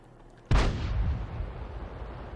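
A single heavy artillery shot from a Hummel self-propelled gun in a tank video game, one sudden deep boom followed by a long rumbling decay that fades over the next two seconds, with no talk.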